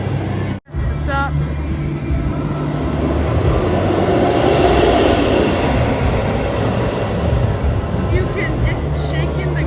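An empty roller coaster train on a test run roars past continuously with a loud, rumbling rush of wheels on track, building and holding through the pass, with voices faint beneath.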